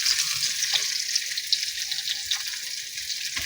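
Pieces of chicken and mushroom fry in a hot pan with a steady bright sizzle, broken by soft scrapes and clicks of stirring, close and continuous with no talking.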